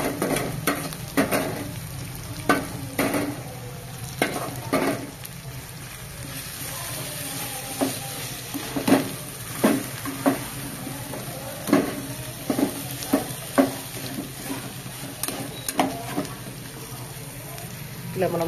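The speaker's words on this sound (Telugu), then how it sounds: "ఇప్పుడు మనం చికెన్ వేసి బాగా మసాలాను కలుపుకుందాం." Chicken stirred into sizzling masala in a pan for Telugu gongura chicken curry, with repeated scraping strokes of a spoon over a steady frying hiss throughout.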